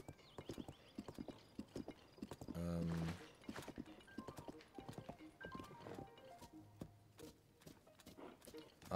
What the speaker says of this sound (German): Ich habe nämlich ein Pferd ohne Zügel.